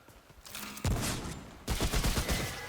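Enemy shotgun blasts in Remnant: From the Ashes, with two loud bursts of fire, the second followed by a rapid run of echoing shots, all without talk.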